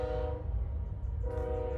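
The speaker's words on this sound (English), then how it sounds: "ignore the train" A train rumbles past close by while its horn blows two long, loud blasts separated by a short gap, over a continuous low rolling drone.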